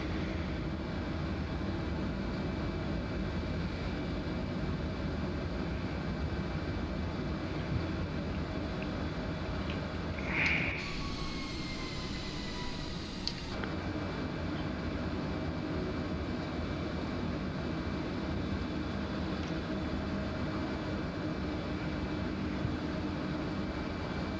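An aircraft engine drones steadily during a climb in Microsoft Flight Simulator, a constant even hum throughout with a brief faint chirp midway.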